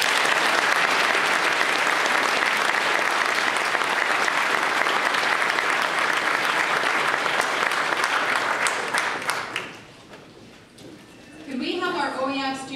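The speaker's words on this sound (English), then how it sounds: "let's give them a real round of applause" Loud, sustained audience applause at a 2017 OYAP apprenticeship completion ceremony honouring general carpenters, a dense wash of clapping that thins out near the end as a voice begins speaking.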